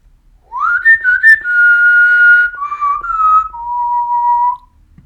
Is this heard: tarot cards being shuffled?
no